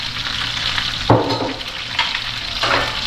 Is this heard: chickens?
no